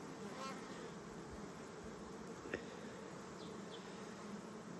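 A faint, steady hum of many bees buzzing together, continuous and low, with a single soft tap partway through.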